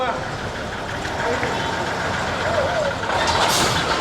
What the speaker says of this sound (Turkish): Sri Lanka'nın meşhur eski otobüslerine benziyor diyecektim ama ona benzer bir kamyon bu